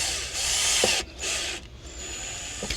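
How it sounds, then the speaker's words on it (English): A right-angle drill bores a small pilot hole into plastic on a MAN/Crafter van wheel arch extension, giving short whirring bursts with brief pauses, close by. "Just going to drill a little pilot hole here."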